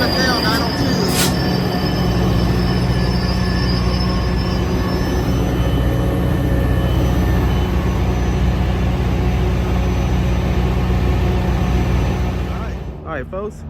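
A Caltrain train led by an F40PH diesel locomotive rolls through Santa Clara University station, a loud, continuous rumble of engine and wheels with high-pitched squeals, fading slightly at the very end.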